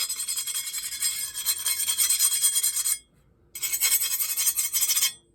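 A hardness test file skates over a hardened steel seax blade in two rasping strokes with a brief pause between them, a close, bright scraping sound heard alone.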